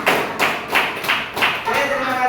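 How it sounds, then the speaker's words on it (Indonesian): Applause for a student group in a school classroom, a short burst of rhythmic, close clapping that settles into a softer patter. "Sekali lagi tepuk tangan untuk kelompok 3."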